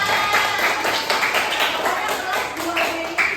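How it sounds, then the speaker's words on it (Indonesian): A class of schoolchildren claps hands in applause during a lesson, a dense rhythmic patter of many hands close by, with voices mixed in. "Beri tepuk tangan buat kalian semua."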